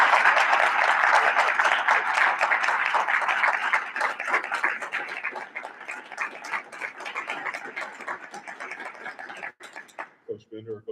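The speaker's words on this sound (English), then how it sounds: "we'd like to first celebrate them with a great round of applause" An audience at a school district board of education meeting gives the coaches a round of applause, dense sustained clapping that starts loud and gradually thins and fades, ending in scattered claps as a voice begins to speak.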